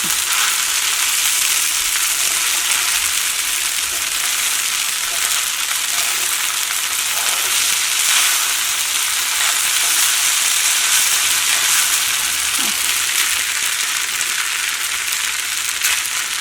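Rice with fried onions stirred with a spoon in a hot non-stick pan: a loud, continuous sizzle and crackle of frying that holds steady throughout, close up with no talking.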